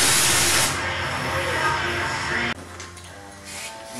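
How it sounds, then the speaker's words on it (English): A spray gun hisses loudly while laying a thin final base coat of paint on the tailgate and bedside of a Ford F150, then cuts off abruptly midway, leaving quieter shop noise and faint hissing. "This is a final coat of base. As you can see, I'm moving the gun a lot faster."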